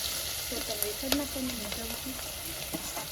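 Chilli, turmeric and tomato sizzle in hot oil for a Gujarati gravy, a steady close hiss with a few soft pops and faint utensil taps.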